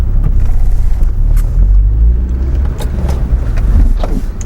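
A car engine rumbles up close, loud and steady, as the vehicle drives forward, with a few brief knocks and shifts in the low roar.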